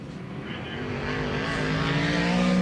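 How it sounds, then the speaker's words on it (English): A late model dirt race car, number 11, idles and rumbles as it pulls back into the pit area at Georgetown Speedway, its engine steady and slowly growing louder, with no talk. "Caprera not going to take a second lap as he pulls back into the pit area in that FXQs.com car number 11 machine"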